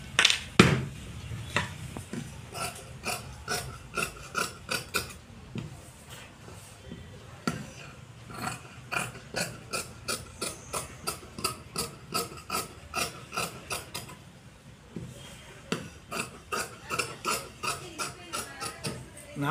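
Scissors cutting fabric for an Aari work blouse, a quick rhythmic series of crisp snips close by, steady and repeated with short breaks, no talking.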